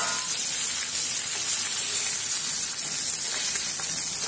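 Stuffed pomfret fish fries in a pan with a continuous, loud, close sizzle and hiss that holds steady throughout, with no talking.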